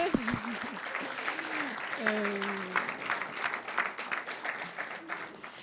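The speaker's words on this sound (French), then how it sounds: "Oui, on peut l'applaudir." An audience at a discussion event with a town mayor claps in a steady, moderate round of applause, with a few voices and murmurs rising briefly above the clapping.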